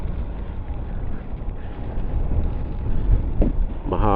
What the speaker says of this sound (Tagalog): Mahangin pati ngayon, no?